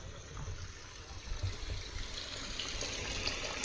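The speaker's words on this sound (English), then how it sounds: "So they've added these white noise machines." A white noise machine in a firehouse bunk room plays a running-water sound: a faint, steady hiss and gurgle, even and unbroken throughout, with no talking.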